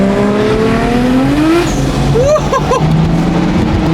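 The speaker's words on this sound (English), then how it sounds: "After those GTRs, the turbo sounds so crazy." A turbocharged sports car engine revs and climbs in pitch at a car meet, with rising turbo whines and a few quick throttle blips, loud and close over a steady rumble.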